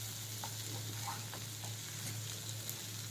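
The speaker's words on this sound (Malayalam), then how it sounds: "നല്ല ഇളക്കി ഒരു 2 മിനിറ്റ് ഒന്ന് ഫ്രൈ ആവാനിട്ടാൽ മതി." Chinese potatoes (koorkka) stir-frying with masala in a pan make a faint, steady sizzle, with occasional soft spatula taps and scrapes scattered through it, heard at low volume from close range.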